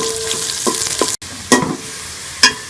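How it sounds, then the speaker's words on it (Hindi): Onions fry in hot ghee for chana pulao, a close, fairly loud sizzle punctuated by several brisk stirring scrapes and a momentary dropout partway through, with no talking. "घी हमारा गरम हो गया, इसके अंदर ये मैं प्याज डाल दूंगी। इसको हम ब्राउन कर लेंगे प्याज।"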